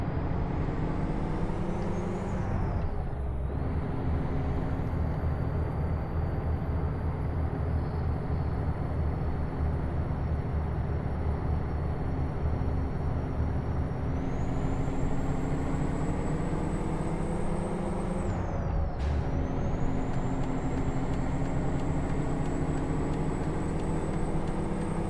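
A heavy truck in American Truck Simulator pulls away in a high gear, its engine droning loud and steady for the whole stretch, with two brief dips where the note drops and climbs again as it strains.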